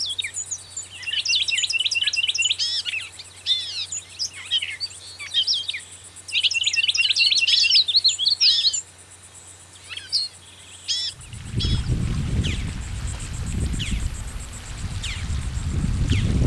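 Songbirds in a salt marsh of cordgrass and black needle rush give repeated bright chirps and trills for about eleven seconds, then a louder rumbling wash, like wind or water, takes over while faint calls carry on behind it.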